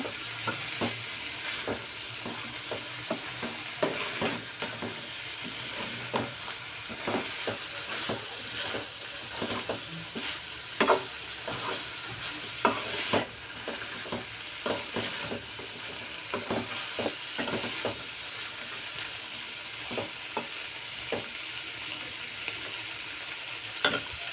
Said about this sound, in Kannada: ಚೆನ್ನಾಗಿ ಮಿಕ್ಸ್ ಮಾಡಬೇಕು